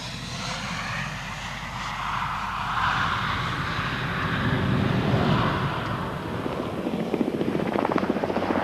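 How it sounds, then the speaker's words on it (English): A Westland Wessex HCC4 helicopter of the Royal Flight from RAF Benson flies past at an air show, a loud, continuous engine and rotor roar that swells and shifts as it passes and grows choppier toward the end. "Now another Wessex HCC4 from the Royal Flight based at RAF Benson."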